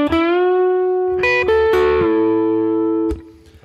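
Electric guitar lick on a 335-style hollow-body played through the bridge pickup: a few sustained, slightly driven notes with slides and bends between them, loud and close, then a brief pick scrape as it ends.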